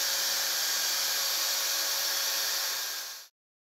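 Fillet weld sander with a hard-pressed grade 5 fleece disc working a stainless steel weld, a steady, close, hissing whine that holds level for about three seconds, then winds down and cuts off into silence.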